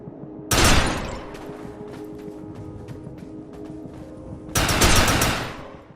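Gunfire in the sci-fi shooter game Defiance: two loud, dense automatic bursts separated by a quieter stretch of lighter rapid shots, all close and prominent.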